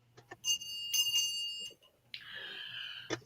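Small bells ringing during a live sale: a few bright, clear dings early on, then a longer shimmering ring near the end, fairly quiet against a soft background hum.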